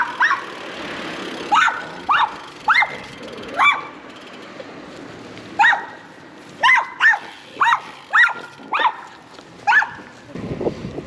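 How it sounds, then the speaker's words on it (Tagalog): A dog barks repeatedly beside a canal-side street, a dozen or so sharp barks in uneven bursts, fairly close, with faint traffic rumble underneath. "May aso kasi."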